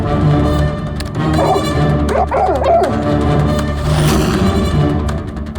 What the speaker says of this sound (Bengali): টেপার সঙ্গে সঙ্গে কুকুরটা ডাকছে